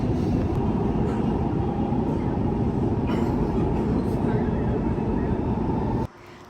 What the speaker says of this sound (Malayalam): അപ്പോഴത്തേക്ക് നമ്മുടെ മെട്രോ എത്തിയിട്ടുണ്ട്. നമ്മളിപ്പോൾ അതിൽ കയറി.